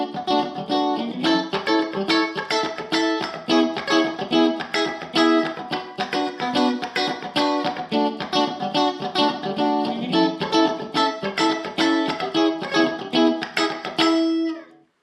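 Rhythmic electric guitar chords, strummed with a pinky-extended voicing in a steady, choppy funk pattern, loud and continuous with no talking.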